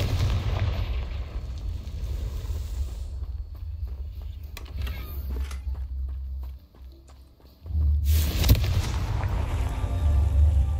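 Confringo spell blasts in the video game Hogwarts Legacy, heavy booming impacts and rumbling bursts over a continuous game soundscape, with a sharp loud burst near the end.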